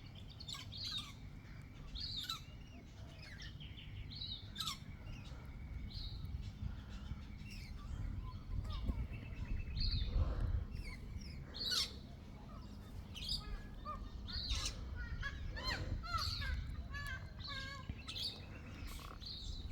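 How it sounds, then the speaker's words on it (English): Birds chirp and sing in trees on a calm day, with many short calls scattered near and far over a steady low ambient rumble, no talking. "And you can hear the birdies"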